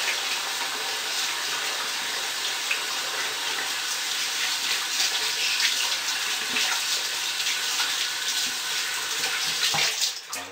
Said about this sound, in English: Let me wash that soap better off.